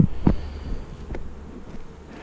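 Honey bees hum in a small two-frame nuc box, a low steady buzz close by with a few brief knocks, lasting only a couple of seconds.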